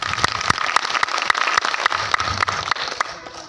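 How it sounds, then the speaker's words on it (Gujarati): Audience applause fills a hall at a life-changing motivational program in Amreli, with steady, dense clapping from a seated crowd that fades slightly toward the end. "એકવાર પોતપોતાની માટે જોરદાર તાળી"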